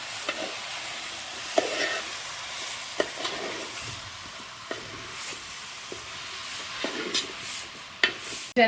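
Raw green plantain upperi with dried chillies being stirred in a pan at a village kitchen, a steady soft sizzle of frying under repeated scraping strokes of a spoon against the pan, close and moderately loud.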